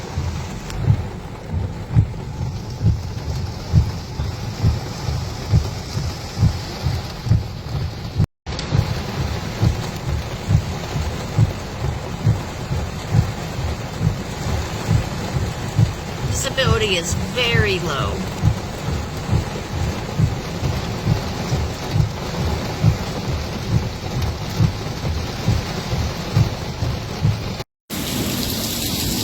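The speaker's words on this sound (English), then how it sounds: "Rain is definitely coming down in sheets." Heavy rain pours down in sheets during a tornado-warned thunderstorm, a steady, loud roar of rain on surfaces throughout, with rumbles of thunder rolling beneath it and a voice speaking briefly.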